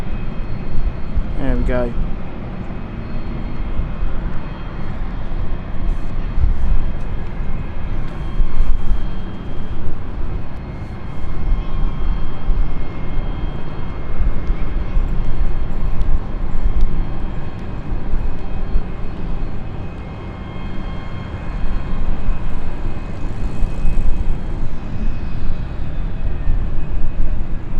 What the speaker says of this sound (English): look at KLM flight coming in